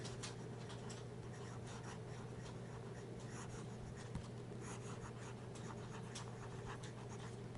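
A Delta Dolcevita fountain pen with a medium nib scratches softly across Rhodia paper in quick strokes and little taps, faint and close over a steady low hum, with no one talking.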